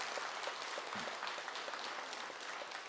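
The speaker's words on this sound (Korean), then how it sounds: "자, 박수 한번 치세요." Audience applause at a dharma talk in Jogyesa temple, a dense, steady clapping from a crowd filling the hall, heard alone without talk.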